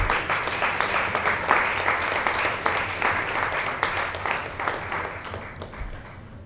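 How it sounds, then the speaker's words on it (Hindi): An audience at an awards show and open mic poetry event applauds to welcome guests of honour, a dense burst of clapping that holds steady and then gradually fades out. "प्लीज़ ज़ोरदार तालियां."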